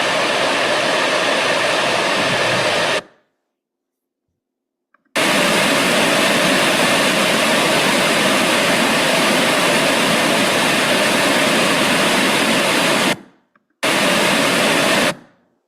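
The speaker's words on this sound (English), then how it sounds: "So hearing the sound of water is the music of the Sierra." A rushing river in the Sierra Nevada, the middle fork of the San Joaquin, gives a loud, steady broadband roar of churning water, broken by two sudden gaps of silence.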